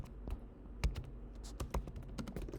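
Keys clatter on a computer keyboard as an SQL query is typed, a quick irregular run of close, light clicks and taps with no voices.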